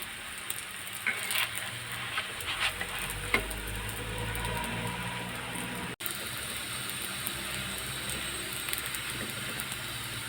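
Katmer pastry frying in a pan with a little oil, a soft continuous sizzle with occasional light crackles and a brief clatter, steady and close.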